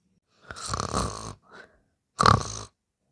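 A person imitates snoring with two rough, throaty breaths, the first long and drawn out, then a short gasp and a second loud snort-like snore, close up and otherwise silent.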